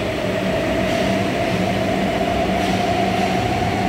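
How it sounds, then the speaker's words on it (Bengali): A Kolkata Yellow Line metro train at Noapara station makes a loud, steady rumble with a constant mechanical hum. The sound stays even and close for the whole stretch. "ওই দিকটা দিয়ে ট্রেন দক্ষিণেশ্বর চলে যাচ্ছে"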